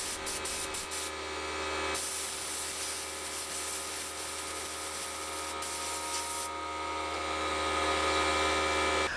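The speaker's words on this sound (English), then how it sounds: "sprayed it off with air" Compressed air blows dust off a routered wooden sign just sanded with 80-grit paper: a few quick puffs, then a loud, sustained close hiss that stops abruptly before the end, over faint background hum.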